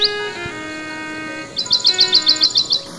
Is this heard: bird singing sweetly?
yes